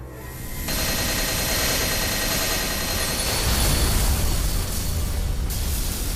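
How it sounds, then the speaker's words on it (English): Magic bullet gunfire and blue explosions in the Witch on the Holy Night video game on PS4, a dense continuous roar of rapid shots and blasts with deep rumbling booms, loud and unbroken after a brief quieter opening. "Blue explosions bloomed along the lamp-lit promenade."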